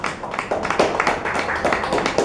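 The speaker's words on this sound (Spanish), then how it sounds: "Acá pido un aplauso para Ricardo Vega Jaime, alias Richie Laca," Applause from a crowd, steady dense clapping sustained throughout at moderate loudness.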